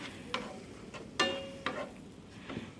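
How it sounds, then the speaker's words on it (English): Spoon stirring rice crispies into melted butter and marshmallow for rice crispie treats. A few distinct scraping and sticky clacks come close by at an uneven pace over faint background noise, with no talk. "Okay, just stir them around a little bit."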